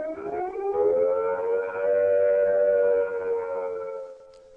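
UK nuclear attack warning siren, a single loud wailing tone that rises and holds steady before beginning to fade, with no voices.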